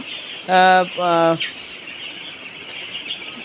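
Two short, loud, harmonic calls from poultry, one right after the other, on a farm after a Gumboro vaccine course. They are followed by quiet background.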